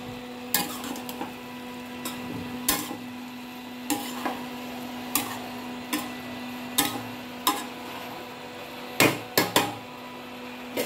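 A paneer dish fries in a covered pan with a low, steady sizzle, broken by sharp clicks and taps at irregular intervals, close by and without talk.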